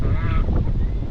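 Ducks at a lakeside home give a run of harsh, honking quacks, close and fairly loud over steady wind noise on the microphone.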